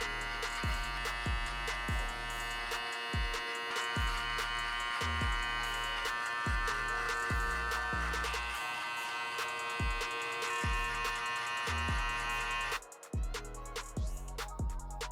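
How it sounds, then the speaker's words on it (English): An electric hair clipper with no guard and its lever fully open buzzes steadily and close while cutting a guideline for a skin fade, under a rhythmic background beat. "with the clipper, still no guard, I'm gonna just open the lever all the way to lay down my next guideline"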